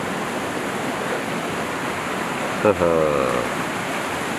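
Mountain stream rushing through Chilseon Valley on Jirisan in autumn, a steady broadband wash of flowing water throughout, with a brief voiced exclamation near the end.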